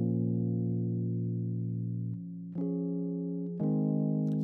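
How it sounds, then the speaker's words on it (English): An electric piano in an Amapiano beat built in FL Studio plays sustained, effect-laden chords that shift pitch a few times, smooth and mellow with a chorus-like shimmer, alone with no voices. "I just add some melody to this e-piano"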